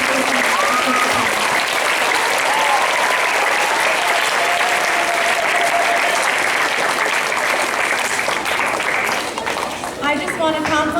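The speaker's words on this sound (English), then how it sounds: "Let's give a round of applause to our fourth grade speech competition participants." Sustained audience applause for fourth grade speech competition participants at a school speech contest, a dense steady roar of clapping from a full room that holds for about nine seconds before thinning out, with some voices mixed in.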